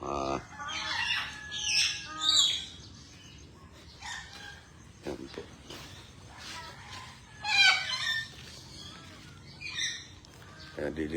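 Geese in a temporary pen squawk and honk in several loud, ragged bursts at close range, with quieter gaps and shifting intensity between calls.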